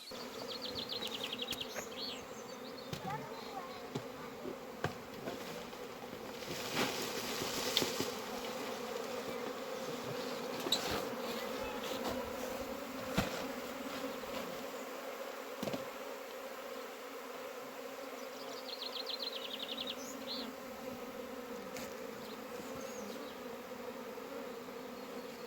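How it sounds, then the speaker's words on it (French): A small honeybee swarm buzzes steadily and continuously, the drone of many bees close by and even throughout, with occasional louder passes of individual bees near the source. "toutes les butineuses qui sont restées là-haut ont fini par retrouver la ruche"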